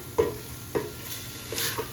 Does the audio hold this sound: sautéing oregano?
yes